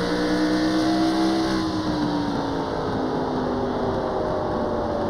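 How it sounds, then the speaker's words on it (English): Old school NASCAR race cars in the iRacing video game at Irwindale, several engines droning loudly and continuously with overlapping pitches shifting as cars pass and rev through the whole stretch. "listen to the sounds of these vehicles for a little while. Beautiful old school NASCARs."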